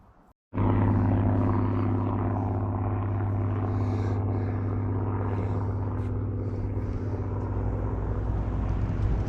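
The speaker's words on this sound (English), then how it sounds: "That noise you can hear, guys, is the Merlin engine of the Spitfire." After a brief quiet moment, the deep Merlin engine drone of a Spitfire flying over swells in and holds steady and loud, a continuous throaty rumble overhead, near a river.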